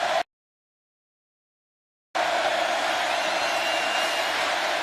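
A dense football crowd at Kyle Field, Texas A&M against Clemson, roars loudly and steadily, broken by a sudden silent gap of about two seconds before the roar resumes.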